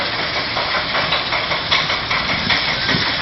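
A steam engine named Colossus works under load at the Great Dorset Steam Fair, a loud, continuous steam hiss and mechanical churning with faint rhythmic pulses and no talking.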